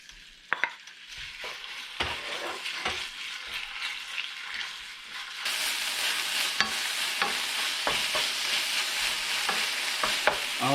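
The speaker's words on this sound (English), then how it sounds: "Yeah, I'm going to cook the beef first." Beef fries in vegetable oil in a pan, starting with a quiet sizzle and scattered utensil clicks, then swelling into a louder, denser hiss partway through, heard up close with no voices.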